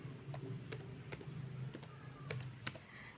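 Quiet typing on a computer keyboard while filling in a CV, soft irregular key clicks in quick bursts close by, faint and alone.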